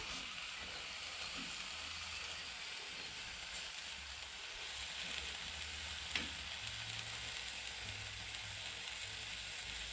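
Pie filling with dried tarragon sizzles steadily in a pan on a Kamado Joe grill, a continuous broadband hiss with a faint scrape of stirring and one brief clink near the middle.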